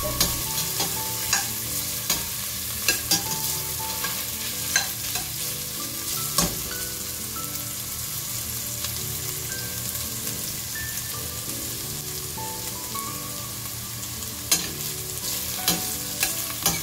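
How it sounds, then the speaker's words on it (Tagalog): Ginger and chicken pieces fry in a pot for a chicken soup, making a loud continuous sizzle. Frequent scraping and clacking stirs come at an irregular rhythm, close up, with no voices. "Haluin lang natin ito hanggang sa mag-brown silang lahat."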